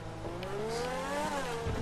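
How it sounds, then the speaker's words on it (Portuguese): A Grotti X80 Proto supercar in GTA Online roars with a steady engine note that climbs in pitch and then eases off, loud and close, with no other sounds over it. "Minha nossa, olha o ronco desse motor."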